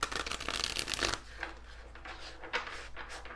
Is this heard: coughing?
no